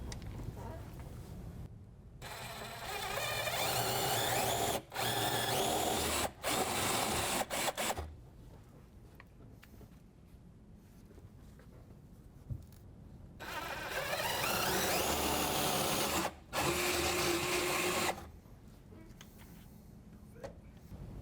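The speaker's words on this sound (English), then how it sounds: "use a 1/4 inch drill bit, drill a hole on each side for the mounting screws" Power drill with a 1/4 inch bit boring mounting holes for a microwave installation, several loud whirring bursts of a few seconds each, separated by quieter gaps with low background noise.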